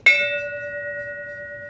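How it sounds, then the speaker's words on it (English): A single bell is struck once with a sharp impulse, giving a clear metallic strike followed by a pure ringing tone that slowly decays, heard alone. "I gave the bell an impulse."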